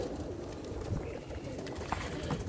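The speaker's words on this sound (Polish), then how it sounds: "Jeszcze gołębie chodzą." Pigeons cooing at a loft in Elbląg, a few soft low coos heard close against a steady background hum.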